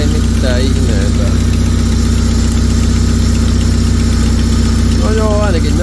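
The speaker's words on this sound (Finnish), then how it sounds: "Tyhjäkäillä toimii aivan ongelmitta." Fiat FIRE 1.4 8V petrol engine, freshly rebuilt with a new cylinder head and a possible exhaust leak, idling steadily and loudly up close with an even low rumble, while someone talks over it.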